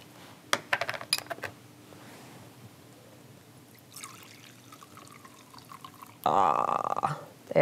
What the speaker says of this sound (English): Take the slurry and put it into a bowl.